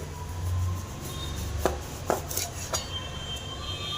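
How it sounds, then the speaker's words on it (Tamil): A knife cutting a large brinjal into pieces on a board, three or four sharp separate chops spaced about half a second apart, close up over a low background hum. "ரெண்டாக மூணாக நம்ம கட் பண்ணிக்கலாம்"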